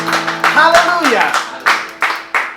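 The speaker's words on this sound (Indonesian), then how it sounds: "Tepuk tangan yang dahsyat buat Tuhan Yesus" Congregation at a Sunday church service clapping for Jesus: loud rhythmic hand claps, about a handful of sharp bursts spaced roughly a third of a second apart, mixed with voices and sustained tones, likely music, underneath.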